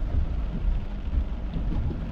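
A convective thunderstorm with heavy rain and a light gust of wind gives a steady, close low rumble under a constant hiss of rainfall, with no voices.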